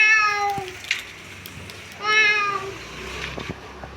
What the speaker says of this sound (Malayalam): ഇതാണ് ഒരു പൂച്ചൂട്ടി